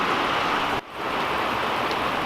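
Steady, heavy rain pours down outdoors in a dense, continuous hiss, cut briefly by a short dip before resuming, with no voices.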